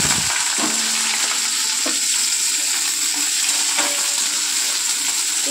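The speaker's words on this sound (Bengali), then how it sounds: "কড়া কিন্তু গরম হয়ে গেছে, এর মধ্যে আর একটু তেল অ্যাড করে দিলাম" Oil sizzling and crackling steadily in a hot kadai during home cooking, with a faint stirring scrape now and then, close and continuous with no talk.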